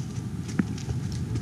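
A horse's hooves clip-clop at a walk during a ride, a few soft, evenly spaced footfalls close by.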